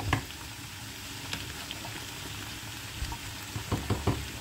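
Food fries quietly in a covered pan in a home kitchen, a soft continuous sizzle with a few small pops and clicks scattered through it, no voices.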